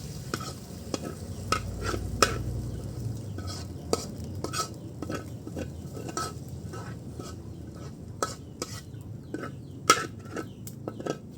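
Chicken sautéing in a casserole pot for tinola, a soft continuous sizzle punctuated by repeated sharp clinks and scrapes of a utensil stirring against the metal pot.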